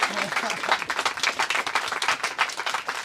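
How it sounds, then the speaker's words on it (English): A round of applause after a baptism, with many hands clapping in quick, uneven bursts, close and lively, and voices mixed faintly under it. "Come on, a big round of applause."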